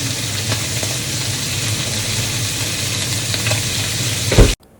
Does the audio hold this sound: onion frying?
yes